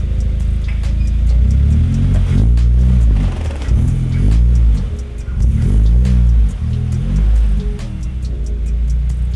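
A 2015-or-later Subaru WRX rolls up onto ramps, its engine rumbling steadily and close with slight revving and a few light ticks throughout, no talking.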